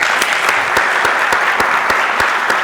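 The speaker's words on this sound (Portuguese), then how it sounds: "Pessoal, uma salva de palmas, faz favor." Audience applause at a talk held at a vocational school, a steady dense patter of many hands clapping with a few sharper claps standing out, close and sustained, no talking.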